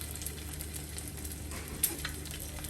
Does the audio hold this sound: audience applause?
no